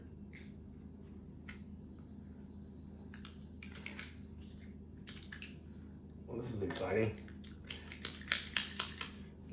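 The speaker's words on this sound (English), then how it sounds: "I think I can just put it in my little mincer." Soft squishing and metallic clicks of a hand mincer grinding food, growing busier with rhythmic clatter toward the end; a voice speaks briefly.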